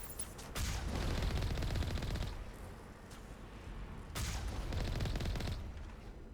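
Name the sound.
gunfire in Mass Effect 1 video game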